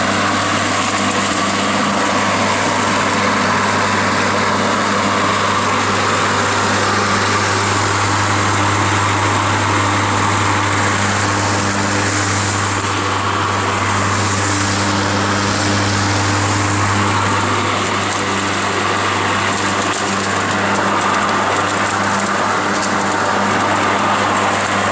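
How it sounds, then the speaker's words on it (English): A Greenworks 40-volt lithium-ion battery 19-inch lawn mower runs with a steady, even motor hum and whine that holds constant throughout, fairly loud and close with no talk over it. "Okay, so here I'm going to start the mower"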